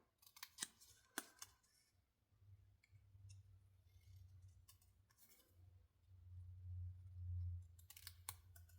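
Scissors snipping through paper while a paper pumpkin card project is trimmed, a few sharp close snips and clicks in a quiet room with light handling noise between cuts.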